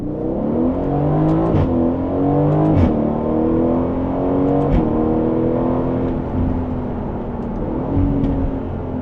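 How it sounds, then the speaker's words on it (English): A sports car accelerating hard at full throttle in Sport Plus mode, its loud engine note climbing steadily through the revs with brief dips at gear changes, close and continuous with no talking. "We'll give ourselves a bit of space so we can floor it down here."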